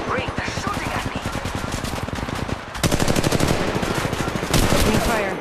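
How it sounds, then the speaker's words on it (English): Rapid automatic gunfire from an Apex Legends Mobile ranked match, loud continuous bursts of shots with a brief lull, then heavier firing resuming. "they're shooting at me!"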